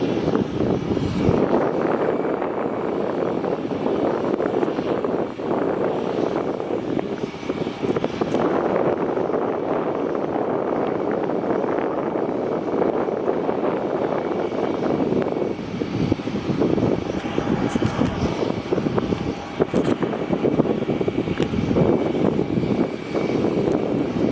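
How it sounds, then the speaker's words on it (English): A China Southern Airbus A350 taxis toward runway 16 at Melbourne Airport, its engines giving a steady, continuous roar that holds for the whole stretch, with some wind buffeting the microphone and no voices. "the China Southern, which has now started its taxi to runway 16"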